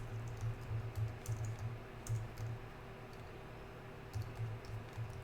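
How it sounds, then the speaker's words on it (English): Quick bursts of clicking keystrokes on a computer keyboard come in uneven runs, fairly faint and close, over a steady low electrical hum, with no talk. "I'm typing. I need to type over here."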